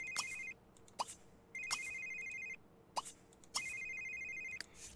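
A phone rings in The Sims 3 University Life, a glitching handset repeating its synthetic ringtone in four bursts with short gaps, loud and clear with no talk over it.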